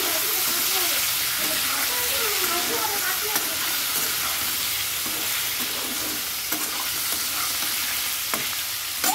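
Potatoes hit hot oil seasoned with cumin seeds and dried red chillies for aloo dum, giving a loud, continuous sizzling crackle with faint stirring scrapes throughout.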